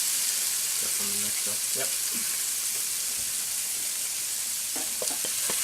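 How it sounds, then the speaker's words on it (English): Fajitas sizzle and fry in a heated skillet, a steady loud hiss running throughout with a brief spoken word and some clinking and stirring over it. "Now I'm going to go ahead and drop this in while the skillet is heating."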